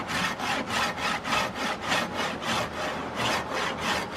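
A fine-toothed hand saw cuts through wood in steady back-and-forth strokes, about ten rasping strokes in a regular rhythm, close and moderately loud with no talking.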